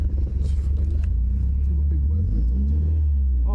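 A Toyota Corona RT142 car engine rumbles low and steady while being driven, close inside the cabin with a slight rise in pitch, as a person talks over it.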